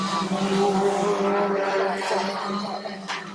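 Stock cars in the final heat of the night, including production rods, race around a track, a continuous loud engine roar with tonal drone and some tire noise, steady throughout.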